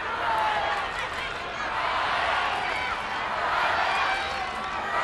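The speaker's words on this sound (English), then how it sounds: "the crowd making their voices heard now" Rugby crowd at a Japan v Ireland women's World Cup pool match, a steady, loud stadium roar of voices that swells and eases in waves across the whole stretch, with no individual speech standing out.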